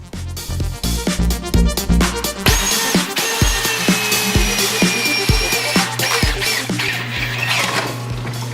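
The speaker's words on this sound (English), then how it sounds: "we'll have to drill them out a little bit" A power drill bores out bolt holes in a metal Miata seat bracket, with a sharp series of short bursts and clatter followed by a long, steady high-pitched whine of the bit cutting metal, loud and close.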